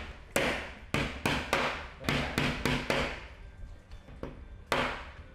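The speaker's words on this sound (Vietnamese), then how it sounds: "đây là công đoạn đóng đinh" Nails hammered by hand into a wooden nail-and-thread art panel: a series of sharp, irregularly spaced knocks, some in quick pairs, close and fairly loud over a light background hum.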